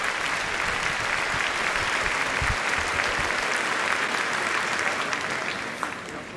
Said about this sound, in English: So a big round of applause for those.